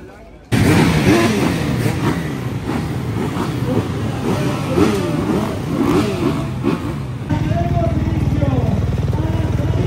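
EMX250 motocross motorcycle engines drone and rev continuously at a European Championship round, rising and falling in pitch as they accelerate, loud and close with a steady rumbling roar throughout.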